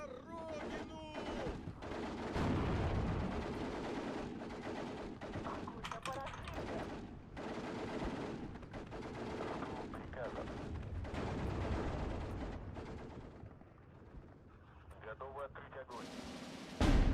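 Steel Division 2 battle with gunfire and sniper shots, repeated sharp cracks and booms in irregular bursts over a rumbling battlefield, with a voice talking over parts of it.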